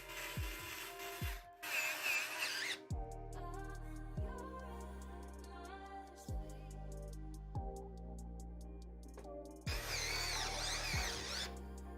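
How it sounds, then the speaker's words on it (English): A power drill drives screws into a top-mounted AIO cooler in a Phanteks P360a PC case, with several separate whirring bursts in close succession and short pauses between them, loud and near, with no talk. "And then we'll finish screwing that in and then we'll be good to go."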